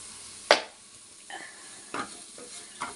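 A ground green chilli spice paste with garam masala frying in a pan, a soft sizzle under a few distinct stirring scrapes spaced about a second apart, close and fairly quiet.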